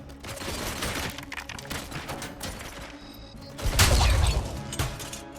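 Gun blasts in RoboCop: Rogue City, a close, loud burst of rapid automatic fire with a heavier, booming volley near the end.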